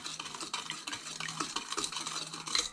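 Sugar and vanilla extract mixed in a bowl with a utensil, a steady close scraping and clinking stir with rhythmic strokes and no voices.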